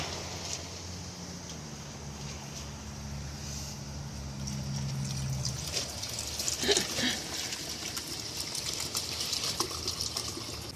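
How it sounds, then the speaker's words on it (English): Liquid is poured slowly into an ice cube tray to make flavored ice cubes. It makes a soft, uneven trickle with faint clinks and splashes, and a low hum runs underneath during the first half. "Now go slow when you pour it."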